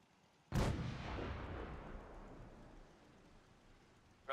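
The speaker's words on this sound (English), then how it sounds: "All batteries, prepare to fire on my mark" A single heavy artillery shot from batteries in Fallout 4 booms out suddenly and loudly, its deep blast rolling into a long rumbling decay that fades over several seconds, with a faint click at the very end.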